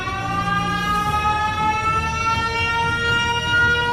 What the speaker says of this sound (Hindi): ये देखकर वो अपना सायरन बजा देता है।